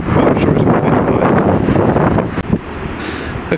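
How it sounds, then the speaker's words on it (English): Strong wind buffets the microphone outdoors on a cold day at a UK circus site, a loud, steady roaring rush with a brief dip and gust near the end, no voices. "boy is it windy, and it's cold!"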